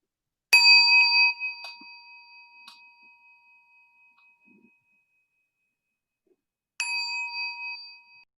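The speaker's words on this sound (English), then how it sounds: "there was one sound of the bell" A meditation bell is struck once, ringing clear and bright before decaying slowly into silence, followed after a long pause by a second, softer strike.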